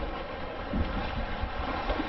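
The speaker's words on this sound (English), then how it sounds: "Lots of wind today." Strong east wind blowing across a beach, a steady broadband rush with gusty low rumbling buffeting throughout, loud and close with no voices.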